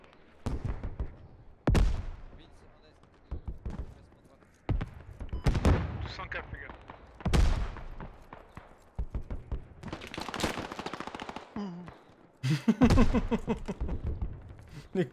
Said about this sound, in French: Grenade, grenade!